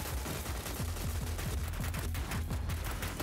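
Rapid bursts of gunfire from a gun in the PS4 game Dreams, a quick run of sharp repeated shots in an automatic rhythm over constant background noise, with no talking.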